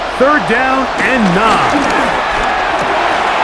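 A stadium crowd in the American football video game Madden NFL 26, Green Bay Packers against Dallas Cowboys, roars steadily in the background beneath a commentator's voice.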